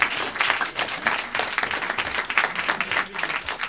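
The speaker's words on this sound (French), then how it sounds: "Et juste pour ça vous pouvez vous applaudir" A comedy club audience applauding itself during a stand-up set, a fairly soft but steady patter of many hands clapping with some crowd noise mixed in, lasting a few seconds.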